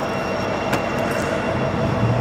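A loaded coal freight train in town, pulling to a stop: steady, continuous rumble of rail cars with faint metallic squeal near the end, close and fairly loud, no voices.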